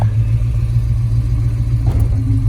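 A 1970 Ford Boss 302 Mustang engine idles with a steady low rumble while the clutch engages, producing a brief shift in tone near the end, with no voices.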